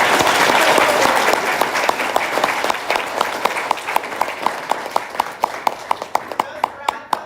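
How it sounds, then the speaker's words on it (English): Audience at a school graduation ceremony applauds loudly, a thick burst of clapping that thins into a few slower, distinct claps as it fades out. "We have to give her another big round of applause."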